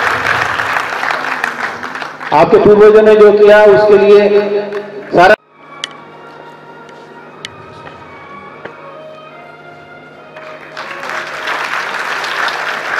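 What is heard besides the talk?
audience applause welcoming martyrs' families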